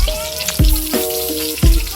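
Eggplant frying in hot oil: a steady crackling sizzle with a few louder bursts of bubbling and spattering, close to the microphone, no talking.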